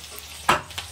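Curry leaves drop into hot oil with a sudden sharp crackling sizzle that flares and quickly fades, close and brief against a faint low background.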